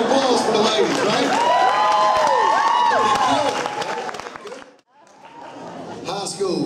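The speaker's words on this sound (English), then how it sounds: "Big round of applause for the ladies, right?" Audience applauding and cheering at a Christian school talent show, loud and sustained with whoops and chatter through the crowd, then fading into a brief lull before clapping resumes.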